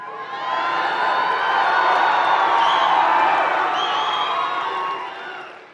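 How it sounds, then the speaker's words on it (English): A large, energetic crowd at a Donald Trump MAGA rally in Saginaw, Michigan cheers and whoops continuously, a dense roar that swells in and holds steady for several seconds before easing off. "It's a very energetic crowd, isn't it?"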